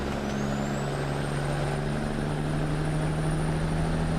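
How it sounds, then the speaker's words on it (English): Peterbilt 379X truck with a Caterpillar engine idling and running in American Truck Simulator, a steady low droning rumble with a faint rising whine above it, close and continuous with no talking. "It's got a cat engine in it."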